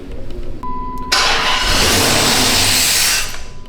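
A Dodge Magnum R/T engine with a suspected vacuum leak cranks briefly, a chime sounding, then catches and roars loudly into a steady rev before easing off, close up.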